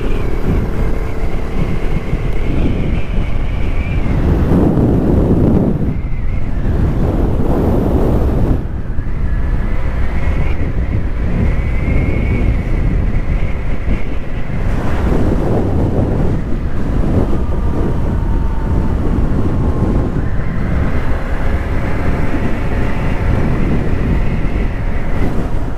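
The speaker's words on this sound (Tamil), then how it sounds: "காற்று நல்லா விசுன்னு நல்லா அடிக்குதுங்க." Strong wind roars steadily into the microphone while riding a Suzuki Burgman 125 scooter at speed, buffeting and rumbling loudly throughout with gusty surges and no voices.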